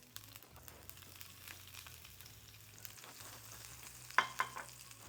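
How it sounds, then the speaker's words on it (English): Green chilies frying in oil with a strong spice blend over reduced heat make a faint, continuous low sizzle, with a couple of soft clinks of a spoon near the end. "Cook these for about half a minute until the green chilies start to turn golden on some of the edges."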